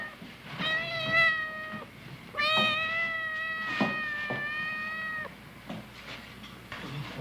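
A cat meows repeatedly with drawn-out, plaintive cries, several in sequence with short pauses between them, close by over a quiet background hiss.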